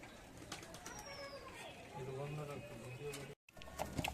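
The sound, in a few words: Giribaz pigeons cooing in a pigeon loft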